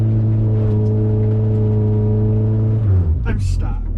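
A Toyota Tercel driven off-road holds a steady, droning rev, then the engine note drops and wheels spin and scrabble loudly on loose ground near the end, with a voice speaking over it.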